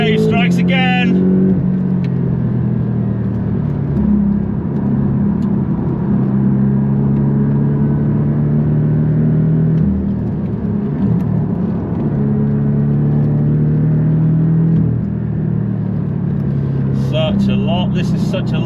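A Porsche races around the Pau Arnos Circuit, its engine loud and close, rising and falling in pitch as it accelerates and shifts through corners, with a voice talking over it.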